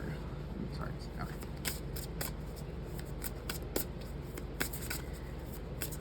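Tarot cards being shuffled by hand, with quick papery riffles and flicks in uneven bursts, close up over a steady background hum while a person talks.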